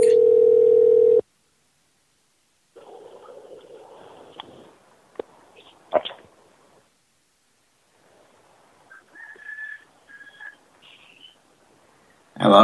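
A telephone dial tone sounds steadily for about a second and then cuts off, followed by a quiet line with scattered clicks and faint tones, then a short rising pair of beeps near the end, with no talking.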